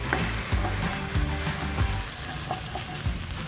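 Thai basil pork stir-fry (pad kra pao) being stirred in a hot pan, with steady loud sizzling and frying and several scraping spatula strokes at an uneven rhythm, close up and with no talking.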